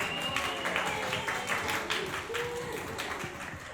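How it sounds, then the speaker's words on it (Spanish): Audience applause after a poetry reading at a women-and-poetry session, steady moderate clapping spread across the room with scattered voices mixed in, continuing for several seconds. "Un aplauso"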